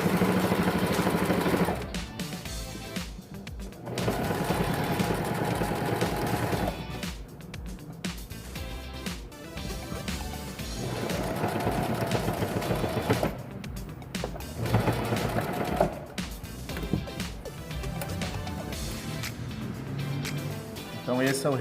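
A sewing machine stitching a T-shirt seam runs in several motor bursts with pauses between them, while a person talks over the whirring throughout.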